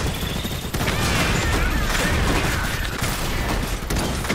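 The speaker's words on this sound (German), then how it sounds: "Werden geschossen!" Gunfire in a battle in the real-time strategy game Iron Harvest, a dense, continuous barrage of shots and crashing impacts filling the whole stretch at steady loudness.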